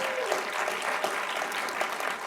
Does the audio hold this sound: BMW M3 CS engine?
no